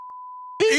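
A steady, pure censor bleep tone runs for just over half a second after two brief blips, then cuts abruptly into a burst of loud speech.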